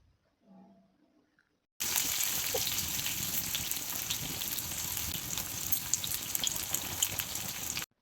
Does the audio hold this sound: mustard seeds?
yes